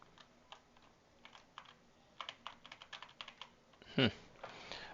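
Quiet, irregular clicks of typing on a computer keyboard, scattered keystrokes with a brief louder clatter near the end and no talk over them.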